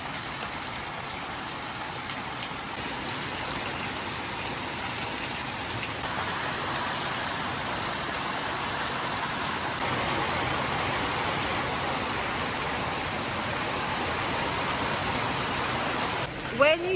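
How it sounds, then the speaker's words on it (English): Heavy rain pours steadily as a dense, even hiss while riding a motorbike through fog at high elevation in Bali, continuous and loud for the whole stretch, with a short bump near the end. "this kind of heavy rain"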